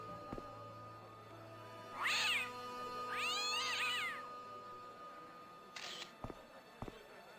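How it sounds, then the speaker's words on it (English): A cat in the game Broken Sword gives two clear, plaintive meows about a second apart over a quiet room tone, followed later by a few faint clicks. "And we have a cat."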